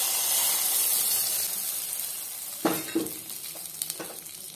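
Hot tempering of mustard seeds, dried red chillies, fenugreek and curry leaves for a Kerala mango pulissery poured out, a steady hiss of frying oil joined by several sharp bursts of crackling sizzle close by, with no talking.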